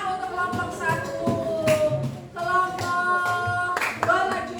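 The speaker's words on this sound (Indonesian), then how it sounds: "Beri tepuk tangan untuk kelompok 1." A fourth-grade classroom full of students claps together in steady, dense applause, with a few voices mixed in beneath the clapping.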